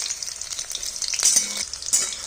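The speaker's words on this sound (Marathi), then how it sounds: "तर इथे बघू शकता आपण तेलामध्ये छान असं फ्राय करून घेतलेलं आहे वांग" Eggplant pieces fry in hot oil for a Maharashtrian baingan sabji, giving a steady close sizzle with a brief stir partway through and no talking.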